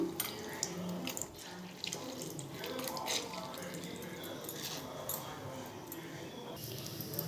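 Cut oranges are squeezed by hand for juice, making soft, steady wet squishing and trickling at low volume, with faint background talk.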